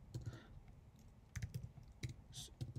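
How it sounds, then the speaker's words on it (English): Typing on a brand new computer keyboard, soft irregular bursts of key clicks at close range against a quiet background, with no talking. "I'm a little bit slow in typing because I just bought a brand new keyboard"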